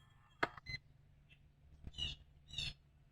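A Weiser Powerbolt2 electronic door lock gives a few faint short beeps and clicks as it cycles, spaced unevenly over a few seconds in a quiet room.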